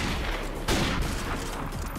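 Rapid bursts of gunfire from Call of Duty Modern Warfare Remastered in a free-for-all match, a quick volley of shots over dense game background noise.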